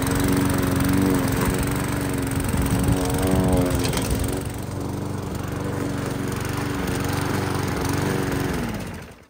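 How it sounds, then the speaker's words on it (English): A lawn mower cuts grass set as low as it will go, its engine roaring close and steady, dipping briefly under load partway through before cutting out at the end. "So my plan is I'm going to mow this as low as I can."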